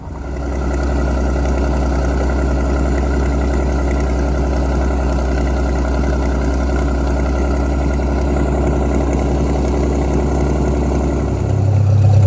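A tractor engine idles at a tractor show, a steady low rumble held close and loud for about eleven seconds before its tone shifts and drops as it is shut down near the end.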